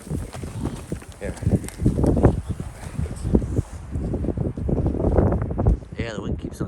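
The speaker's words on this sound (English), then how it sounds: "the wind keeps on shifting on us" Strong gusting wind roars and buffets around an insulated tent in deep snow during a blizzard, rising and falling in loud pulses with people talking nearby.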